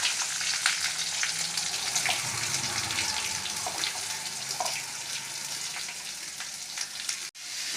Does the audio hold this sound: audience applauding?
no